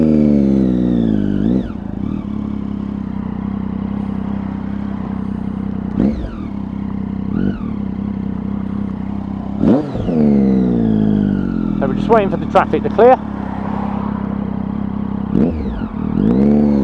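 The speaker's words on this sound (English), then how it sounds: "you already hear the pops and bangs from that aftermarket aero can on this one" A black and gold Triumph Daytona 675cc motorcycle with an aftermarket exhaust can idles loudly and close, its steady drone broken by several sharp rev blips, a quick cluster of higher revs and pops, and brief speech.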